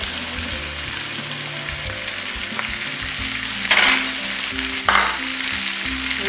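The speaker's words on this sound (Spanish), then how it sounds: "Y ya la voy a mezclar para freír las habas." Broad beans and diced ham fry in a pan with a steady, loud sizzle, a sautéed dish with piquillo peppers, broken by a couple of sharp stirring scrapes partway through.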